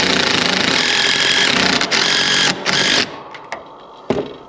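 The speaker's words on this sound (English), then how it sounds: "Then we're going to take our impact right on here" A nearby impact driver hammers a screw in rapid ratcheting bursts while an attic ladder is installed, a long steady run with a couple of short pauses, then winding down into a few last taps.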